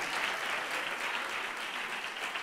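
Audience applause for a finalist at a children's reading contest, a steady dense patter of many hands clapping throughout, fairly even in loudness with no talking.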